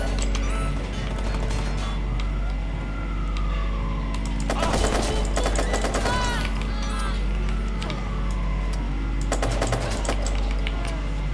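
Gunfire in a video game shooter: bursts of shots and impacts over a constant low hum, joined by a wailing siren and keyboard tapping, moderately loud with some voice.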